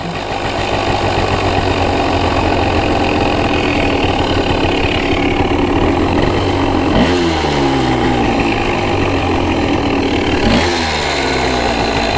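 A Honda ATC 250R three-wheeler engine idles with a loud, rough, steady drone and a knocking undertone, briefly dipping and surging twice as the idle is adjusted, close-up with no voices.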